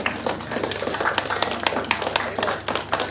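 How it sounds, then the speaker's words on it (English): An audience at a climate equity and environmental justice careers panel gives a panel speaker a round of applause, with dense, crisp, close hand claps continuing steadily for a few seconds and faint voices mixed in. "Can we just bring a round of applause for"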